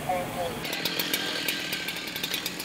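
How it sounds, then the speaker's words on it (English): A chainsaw starts cutting into the roof of a burning house about halfway through, a steady buzzing whine with rhythmic bursts as the blade bites, heard close alongside background fireground noise. "Firefighter Charlie Snow heads to the roof with a chainsaw to cut a triangular inspection hole"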